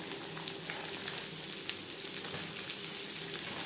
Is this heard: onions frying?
yes